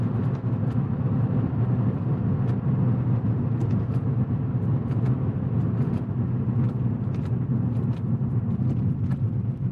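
Porsche 911 of the 996 generation, its flat-six engine droning loud and close from inside the car while gears are shifted, a steady rumbling roar with small surges and no voices.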